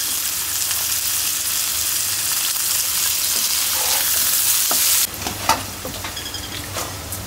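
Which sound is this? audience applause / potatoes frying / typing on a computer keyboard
potatoes frying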